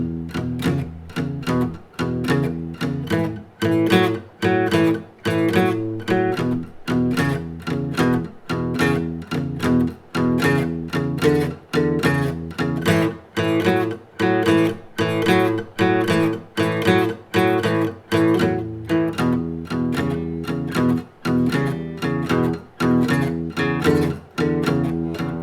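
Guitar plays a standard 12-bar blues with a twist, a steady loud run of rhythmic strummed chords and single-note phrases with regular short breaks, played alone without talk.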